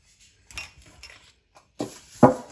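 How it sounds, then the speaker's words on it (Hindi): Metal oven tray handled while being oiled, a few sparse clinks and scrapes close by, ending in two sharper metallic clanks, no talk. "यहाँ पे मैंने ओवन का ट्रे ले लिया, अब इसके अंदर ऑयल लगा देंगे"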